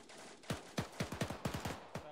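Rapid rifle fire aimed at a bunker window opening: about nine sharp cracks in a quick, slightly irregular burst, fairly distant and moderate in level, with no talking.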